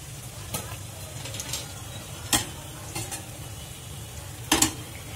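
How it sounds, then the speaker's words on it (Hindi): Onions fry in a pan and a utensil stirs them at intervals, a soft steady sizzle broken by several sharp scraping clicks against the metal. "और प्याज को हमें लाइट ब्राउन करना है, इसे हमें रेगुलर हिलाते हुए लाइट कलर की कर लेंगे।"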